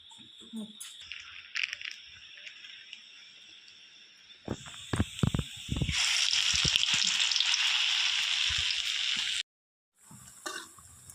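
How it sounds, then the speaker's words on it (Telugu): Hard urad dal vadas frying in oil, starting with scattered clunks and taps, then swelling into a loud, dense, continuous sizzle that stops abruptly near the end. "ఇది కొంచెం ఇంకా వేగాలండి"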